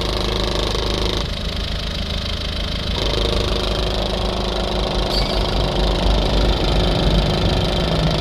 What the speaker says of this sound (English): now we've got the engine running